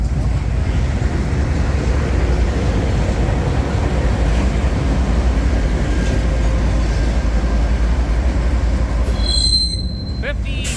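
A Canadian National work train rolls past close by in Illinois, a continuous loud rumble of railcars with wheels squealing against the rails, the grinding tone rising sharply near the end.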